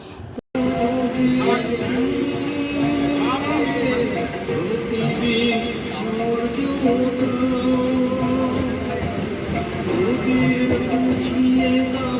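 Steady rumble and rhythmic clatter of the Habra local commuter train in motion, with a persistent tonal hum and occasional squeals throughout.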